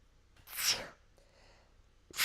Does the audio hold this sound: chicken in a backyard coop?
no